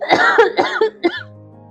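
Coughing in a Punjabi short film, a burst of four or five harsh, loud, close coughs in quick succession, ending with a low hum.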